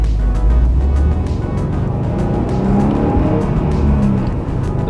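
A Subaru WRX STI's engine drones loudly and steadily from close by, a constant low rumble with a faint rising tone, with no talk over it.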